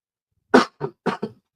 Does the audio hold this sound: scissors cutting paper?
no